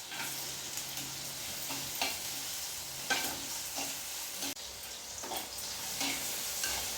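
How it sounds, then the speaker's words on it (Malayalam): Tomatoes with shallots, green chilies and curry leaves sautéing in a pan: continuous soft sizzle with repeated spatula scrapes and stirring strokes at an even pace, close but fairly quiet, no voices. "തക്കാളിയും കൂടി ഇട്ട് കൊടുത്ത് നന്നായിട്ടൊന്ന് വഴറ്റിയെടുക്കാം"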